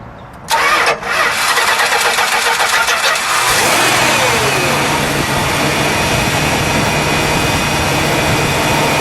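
A 1969 Imperial LeBaron two-door with its 440 cubic-inch V8 cranks briefly, fires up and settles into a steady, loud, close idle that holds for several seconds with no talking.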